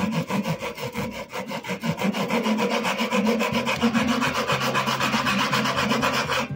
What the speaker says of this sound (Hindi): तो अब हम कटर का रहने देंगे, तो इस आरी पत्ती का हम यूज़ करने वाले हैं।